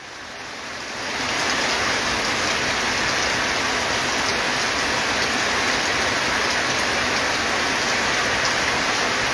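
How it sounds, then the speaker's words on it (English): Heavy rain pours down in a dense, steady roar that swells in over the first second, then holds loud and unbroken with no voices. "Because of the noise because of the rain, I have to end the program."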